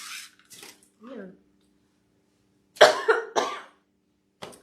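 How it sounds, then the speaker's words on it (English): A person coughs several times in a close, loud cluster of three quick hacks, with soft talk before it and a brief sound after. "Just a cough."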